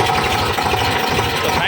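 A village tractor's diesel engine idles steadily with a low, rumbling chug throughout, close by, while someone talks over it.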